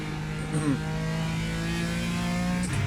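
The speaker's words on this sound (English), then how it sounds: "You hear that raspy exhaust as you get higher in the revs." A BMW M4 GT4 race car engine in the iRacing game revs steadily, its raspy exhaust tone climbing with the revs and brief pitch shifts, loud and continuous throughout.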